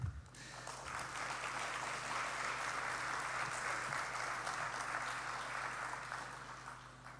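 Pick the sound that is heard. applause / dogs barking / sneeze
applause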